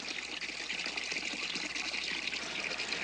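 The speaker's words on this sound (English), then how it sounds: "if you don't turn off the water" Steady running water pours from a tap, a continuous broadband hiss that stays loud and even throughout with no talking over it.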